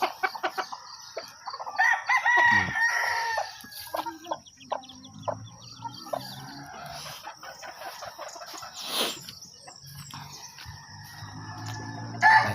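Chickens cluck and a rooster crows on a small farm poultry yard, with several near, overlapping calls and irregular clucking and rustling throughout, and no talk.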